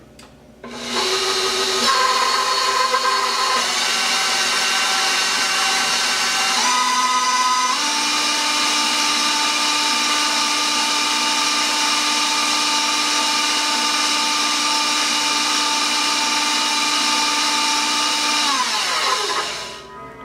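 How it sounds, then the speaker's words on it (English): Electric hand mixer whirring steadily as it beats Nutella banana bread batter in a home kitchen, a loud continuous motor drone that starts, shifts pitch slightly partway, and runs for about eighteen seconds before winding down. "Put my attachment on and mix this until it's nice and smooth."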